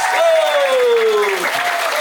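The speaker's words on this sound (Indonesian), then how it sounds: "Tepuk tangan lagi untuk PC, Jos" Applause from an audience welcoming a guest at a one-day English and character camp, a dense steady clapping for two seconds with a voice speaking over it.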